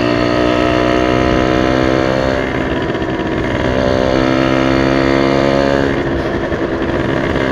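Motorcycle fitted with a racing exhaust revs loudly and close up for several seconds, a steady buzzing roar that swells and eases with throttle changes, with no talking.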